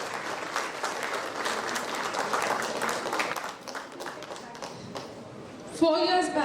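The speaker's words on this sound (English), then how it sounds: "Please, one applause for them." Audience applause at a speech event fills most of the clip as a steady wash of clapping from a crowd, fading somewhat before a brief louder burst near the end.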